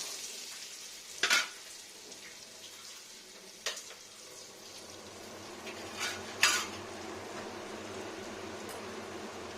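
Food frying in a pan while a bottle gourd and poppy seed dish is being cooked, a faint steady sizzle broken by a few sharp clanks of a utensil against cookware.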